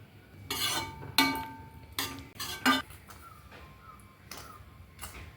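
Cooked rice being mixed into mint paste in a bowl, with a series of sharp spoon-and-dish clinks and scrapes in irregular bursts, close and fairly loud, fading to softer scraping toward the end.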